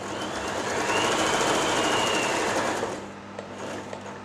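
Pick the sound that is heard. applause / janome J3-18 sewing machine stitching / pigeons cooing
janome J3-18 sewing machine stitching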